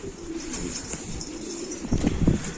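Black bango pigeons coo from a loft as they are released, soft repeated calls close by with a brief louder burst of cooing near the end and faint background noise.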